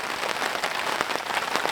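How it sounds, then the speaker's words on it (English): Steady rain patters on a shelter during a solo overnight camp out in a field, a dense continuous hiss with scattered sharper drop taps, close and even throughout with no talking. "Nothing like being out in the field, in the rain, on an overnighter"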